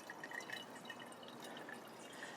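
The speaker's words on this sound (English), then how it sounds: "I have a pitcher of the water. Sun's coming over, so it's casting shadows. And I fill the bottle." Water poured from a pitcher into an empty wine bottle being set up to water plants outdoors, a soft, steady trickle that stays faint and even throughout with no talking.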